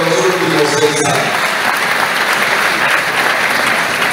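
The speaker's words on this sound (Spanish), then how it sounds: "démosle un fuerte aplauso a ese reconocimiento por ese labor que ha realizado durante los últimos 6 años" An audience at a political event in Valle del Cauca bursts into loud, dense applause, sustained clapping that fills the whole stretch with a brief voice at the start.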